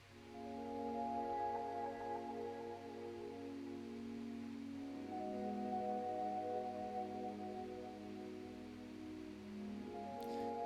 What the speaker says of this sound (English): It's from Omnisphere, nice atmospheric sound